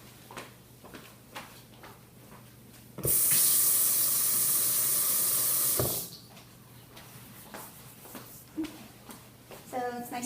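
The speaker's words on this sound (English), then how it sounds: "let me just go wash my hands first" Water runs from a tap at a sink in a clinic exam room for hand washing, a steady loud rush lasting about three seconds between quieter clinking and shuffling sounds.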